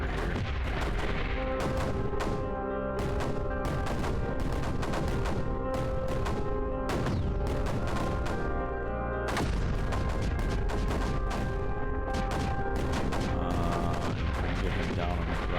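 Cannons in the Creeper World 4 video game fire continuously, a dense, loud barrage of overlapping booming shots with no pause and no talk.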